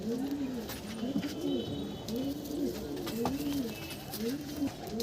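Kalanka pigeons coo in a loft, a steady run of rhythmic, rolling coos repeating several times a second over soft background noise.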